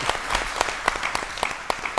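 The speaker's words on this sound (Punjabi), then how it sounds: "ਸ਼ਾਬਾਸ਼, ਜ਼ੋਰਦਾਰ ਤਾਲੀਆਂ।" Brief burst of studio audience applause on a Punjabi television chat show, many hands clapping together with a few crisp standout claps, close and lively.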